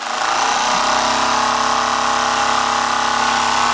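A Wilesco D22 toy steam engine fired by Sterno runs with a loud, steady, close hissing whir that holds without a break from start to finish.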